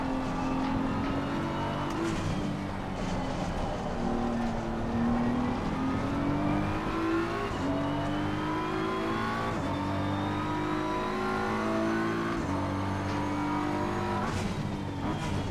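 Race car engines in Assetto Corsa Competizione, a loud, continuous roar that rises and falls through gear shifts as the cars race closely together, with no voices over it.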